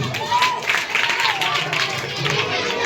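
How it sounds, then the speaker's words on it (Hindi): Crowd applause for a student prize winner at a Republic Day school event, heard as a steady wash of clapping mixed with voices throughout. "शाबाश प्रियांशु के लिए ताली"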